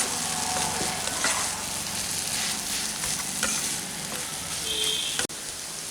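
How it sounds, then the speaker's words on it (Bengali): Lentils with chili powder, sugar and spices fry in a pan for Bengali musur dal posto, giving a dense, continuous sizzle with soft scraping stirs and a brief clink near the end. "এই সমস্ত উপকরণগুলো খুব ভালো করে আমি এখন মিশিয়ে নিচ্ছি।"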